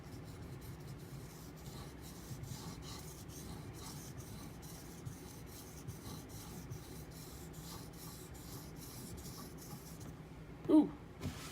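A knife blade rubs steadily across a Nubatama Bamboo 6k whetstone, soft close strokes repeating in a quiet room, with one brief louder knock near the end.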